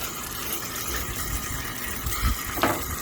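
Running tap water rinses a trout during scaling, a broad steady hiss and splash with brief louder gushes near the end.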